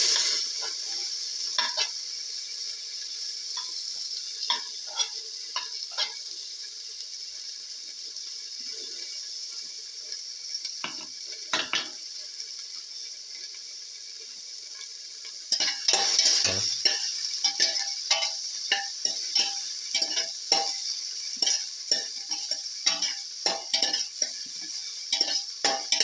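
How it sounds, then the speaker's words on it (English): Onion pieces sizzle steadily in a hot pan, with a constant bright frying hiss throughout and repeated scrapes and clinks of a spatula stirring them, growing louder and busier partway through. "Keep on sauteing."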